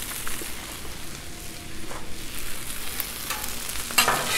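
Hash browns hit a hot Blackstone griddle with butter and sizzle loudly and continuously, with light spatula scraping and a sharper scrape near the end.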